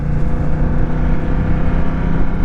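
A Honda Rebel motorcycle rides steadily on a test ride in sport mode, its engine drone loud and continuous with wind rush throughout, no talk over it.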